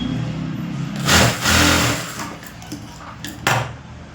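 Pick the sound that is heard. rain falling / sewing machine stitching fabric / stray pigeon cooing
sewing machine stitching fabric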